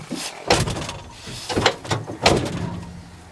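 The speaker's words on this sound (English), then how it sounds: "I'm going to shut the back door" Rear door of a Ford Transit van being converted to a camper swings shut with a few clattering metallic knocks and thuds, fairly close and loud, ending in a faint steady hum.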